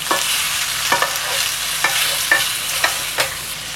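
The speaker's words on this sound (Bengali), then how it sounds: "আবার ভালো করে মশলার সাথে মিক্স করে নিচ্ছি।" Fried potato and cauliflower pieces get stirred with spices in a hot pan, a spoon scraping in regular strokes about once a second over a constant loud sizzle, close up.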